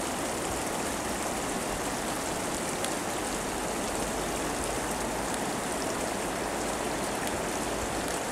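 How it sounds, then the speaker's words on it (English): A river flows beneath a bridge in the Shuzenji area, its steady broadband rush of water loud and unbroken throughout, with no voices. "with the river flowing under it"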